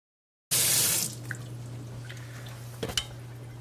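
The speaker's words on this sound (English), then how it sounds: "Wash my hands a little." A kitchen tap gushes loudly for about half a second while hands are washed, then cuts off, leaving a low steady hum and a couple of faint clicks.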